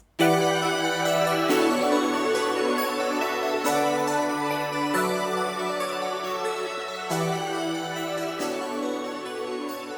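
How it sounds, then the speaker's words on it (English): A mellow synth-driven pluggnb beat outro repeats its looping chords and bass notes, steady and soft, gradually settling lower in level as a master fade-out plays out. "let them do their thing with just a fade out on the master"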